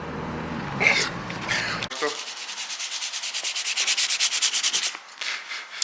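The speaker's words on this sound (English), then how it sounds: "We're gonna sand it down again, and then basically just try again." Sandpaper rubbed over motorbike paint ahead of priming, a close, rhythmic back-and-forth scratching that grows steadily louder, after a few voices and a brief knock at the start.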